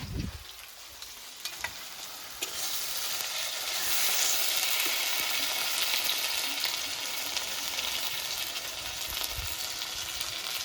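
Onion and capsicum sizzle steadily in a pan as cumin, chilli, ginger and garlic pastes go in, a continuous bright frying hiss that swells after a couple of seconds and stays loud, with a few faint stirring knocks.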